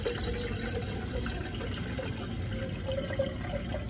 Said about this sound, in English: I need to fill this up with water.